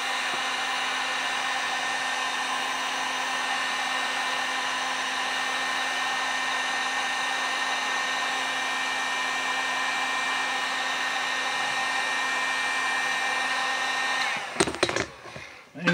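A handheld heat dryer blowing over freshly painted pottery, a steady loud whirring hum that holds for about fourteen seconds before clicking off with a few handling knocks.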